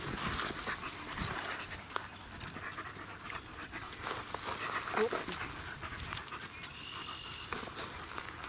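A dog pants rapidly and steadily close by, with soft rustling around it and occasional quiet speech.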